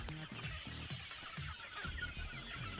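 Young local chicks in a farm brooder house cluck and cheep softly in quick repeated bursts, a faint, close, busy chorus with no voices.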